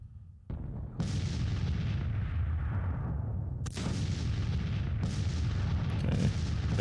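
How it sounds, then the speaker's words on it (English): Repeated artillery fire booms through a Grand Tactician Civil War battle, several loud cannon blasts with long rumbling tails overlapping in a continuous duel, no voices. "Okay, got some artillery firing here. A little bit of an artillery duel."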